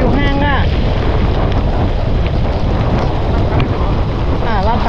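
Strong wind buffets the microphone on a boat while fishing for catfish, a loud continuous roar with water noise, and a few faint chirping sounds break through at the start and end.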